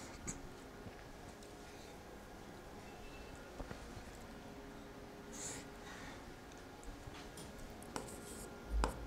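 Chalk or marker writing on a board during a biology lesson, heard as faint, scattered scratchy strokes in a quiet room with soft tapping between them.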